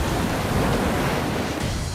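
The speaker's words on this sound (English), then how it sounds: "it produced extremely large and hazardous waves" Large, hazardous ocean surf waves pounding the shore in San Diego during a storm swell, a loud, continuous roar of breaking water with steady broadband wash and no pauses.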